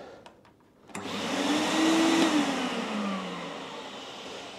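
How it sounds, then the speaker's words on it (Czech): An Eti wet-dry vacuum cleaner switches on after a few light clicks, its motor rising to a loud, steady whine that holds close and then eases slightly, with no talking. "Jako vysavač jsem použil tenhle vysavač na mokrosuchý vysávání od Eti."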